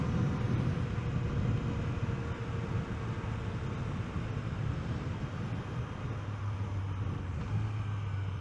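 A Yamaha XSR900 motorcycle ridden on the road, its engine a steady loud drone under heavy wind rush, with a rising and falling tone near the end as it downshifts.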